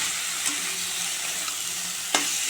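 Kochur loti, boiled taro stolons, is stirred in a pan. A steady sizzling hiss runs throughout, broken by a couple of brief spatula scrapes, and no voices are heard.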